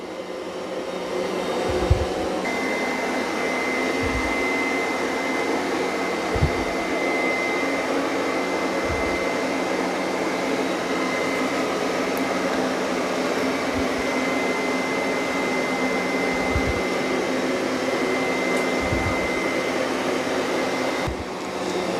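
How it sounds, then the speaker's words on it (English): A Roborock Qrevo S robot vacuum runs on carpet with its suction boosted, a steady close whirring drone with a high whine and periodic low thumps as the brush rolls across the pile. "It does boost the vacuum up when it senses carpet."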